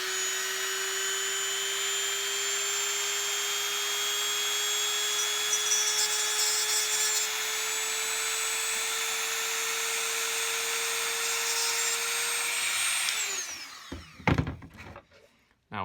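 A rotary burr whines at a steady high pitch while cutting a stone seat in a 14k gold ring, then winds down near the end, followed by a few soft clicks and handling sounds.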